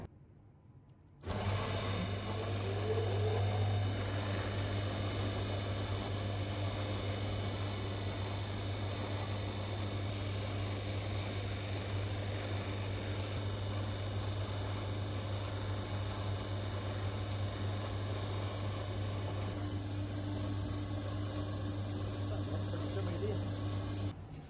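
A shop trimming machine starts abruptly and runs at a constant loud whirring hum while it trims around a new cork sole on a pair of Birkenstock Florida sandals.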